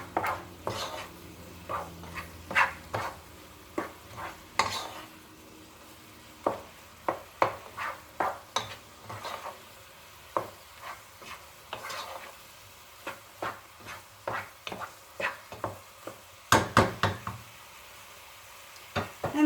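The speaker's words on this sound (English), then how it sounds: "you're going to put the cinnamon, flour, and salt. And you mix it up" Apples are stirred with cinnamon, flour and salt in a pan for glazed apple turnovers, with a rhythm of distinct scraping and tapping strokes over a soft sizzle, close and clear with no talk.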